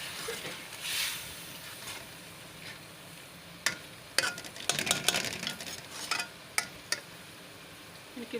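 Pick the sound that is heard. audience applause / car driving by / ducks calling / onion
onion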